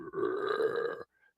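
A voice imitates the gurgling burp of a treasure-hoard monster in a tabletop game, one sustained, loud, close belch of about a second with no talk over it.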